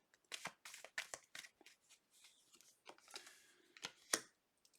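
Tarot cards being shuffled during a reading, a series of quick crisp riffling bursts and soft papery slides, close and fairly quiet with short pauses between.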